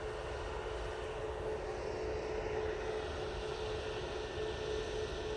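A British Airways airliner at Manchester Airport sends a faint, steady engine rumble with a thin tonal whine running through it, distant and continuous, with no talk.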